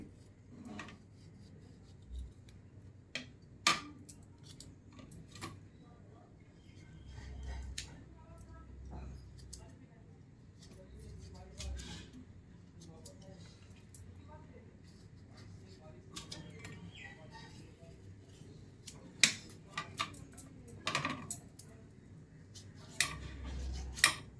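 Knife cutting and scraping an aloe vera leaf to remove its gel, with scattered light taps and clicks against a board or dish under steady talking.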